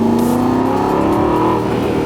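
An Aston Martin Vantage S with a V8 engine revs in a loud, close, continuous drone, the pitch climbing and then easing back over a couple of seconds.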